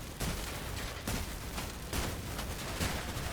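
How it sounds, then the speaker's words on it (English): Gunfire aimed at the player in a video game, a series of rapid shot bursts at regular intervals, moderately loud and sharp against steady background noise. "Oh my god, he just shooting me."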